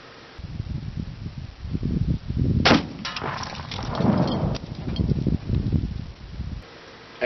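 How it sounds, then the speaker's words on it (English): Repeated blasts as seven small explosives detonate inside a computer monitor that has been shot, a sharp bang followed by a cluster of crackling, clanging pops over about two seconds amid ongoing rumbling noise. "I put 7 of those explosives inside the monitor before I shot it."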